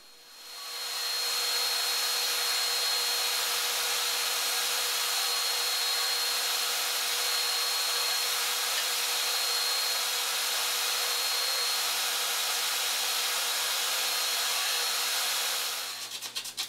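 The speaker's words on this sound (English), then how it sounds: "going to my disc sander and sanding all the edges to make them nice and flush" A disc sander smooths the edges of centimeter-wide golden birch strips. Its whine spins up, holds a loud, even motor drone for many seconds, then winds down at the end.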